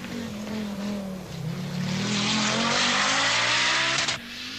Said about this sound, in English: with his English co-driver Phil Short is immediately on the pace in his Audi Quattro